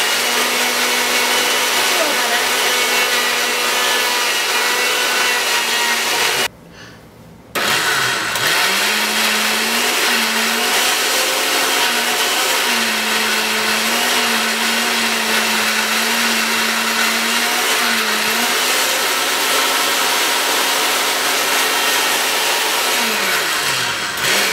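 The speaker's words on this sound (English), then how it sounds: "I'm not having any success with my blender making the cheese with the pine nuts and the zucchini" A blender motor whirs loudly and steadily while blending pine nuts and zucchini, cutting out briefly before starting up again and running on with a slightly wavering pitch.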